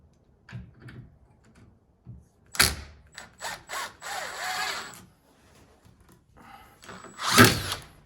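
A power drill drives a screw into a wooden door jamb in short bursts of whirring, with scattered knocks and handling sounds in between.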